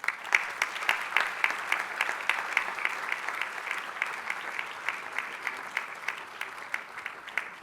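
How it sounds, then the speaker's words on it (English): A hall of attendees at a tourism leaders' summit applauds a special contribution award winner with steady, sustained clapping from many hands, moderately distant and without speech. "Manik should deserve a big round of applause."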